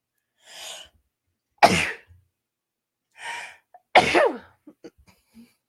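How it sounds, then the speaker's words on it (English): A person gasps and inhales sharply, then lets out a forceful sneeze; the pattern repeats a second time, close and loud. "I'm gonna sneeze."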